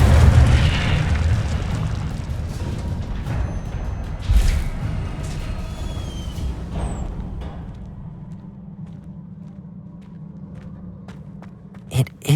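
An Incendio fire spell cast in Hogwarts Legacy sets off a loud, deep whooshing burst that rumbles and slowly fades, with a sharp crackle near the end.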